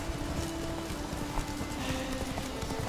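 Roach, the horse in The Witcher 3, gallops with quick rhythmic clip-clop hoofbeats, steady and fairly faint, with a low background bed and no voices.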